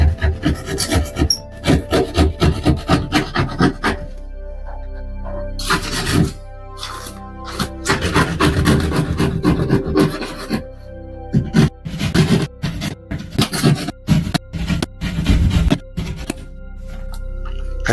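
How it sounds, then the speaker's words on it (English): A scraper works across a wall, stripping paint and drywall in rough, rasping strokes that come in uneven bursts with brief pauses between passes, close and fairly loud. "that paint and drywall is coming off"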